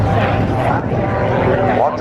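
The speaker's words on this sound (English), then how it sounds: "This airplane is going to be screaming." Aerobatic airplane with a Thunderbolt Lycoming engine performing a slow roll and spiraling climb at a 2012 air force base air show, a loud droning engine roar with shifting pitch, heard under a commentator's voice.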